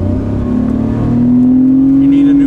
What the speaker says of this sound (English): we need to get your reaction to the way the car sounds now